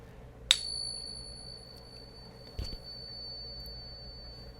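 A silver coin rings after being tested: one sharp, bright strike followed by a clear, sustained high tone, then a second fainter tap partway through, in a quiet setting with no talk.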